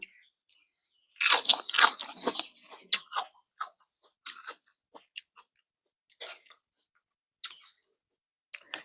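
Someone eats steamed squid with a spicy dipping sauce, with close, crisp chewing and crunchy bites that come in an uneven burst and then thin out into sporadic smaller chomps, with no talking.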